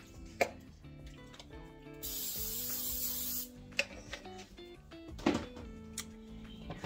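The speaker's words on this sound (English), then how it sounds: "take your baking dish, and I'm going to spray it" Cooking spray hisses onto a baking dish in one steady burst of about a second and a half, close and fairly loud, amid light kitchen clatter and taps before and after.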